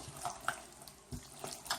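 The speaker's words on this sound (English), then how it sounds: "I cleaned it with soap and water." Water runs from a kitchen tap while hands are washed with soap during buttermilk fried chicken prep, a soft steady splashing with a few brighter splatters and bumps, close by and quiet, no talking.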